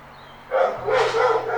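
Dogs bark in a sudden burst of overlapping yelps and barks, fairly close, rising over a low steady hum and continuing in a loud cluster to the end.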